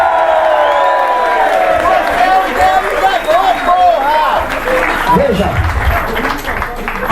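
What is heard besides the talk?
crowd applause and cheering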